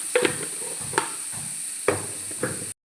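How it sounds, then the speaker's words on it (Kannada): Chili and onion frying in a pan for a shavige bath recipe: a steady bright sizzle with occasional stirring knocks and scrapes of a spoon, close and alone, ending abruptly. "ಕಾಯಿ ಮೆಣಸು, ಸ್ವಲ್ಪ ನೀರುಳ್ಳಿ ಒಳ್ಳೆ ಮಾಡಿ ಫ್ರೈ ಮಾಡಿ"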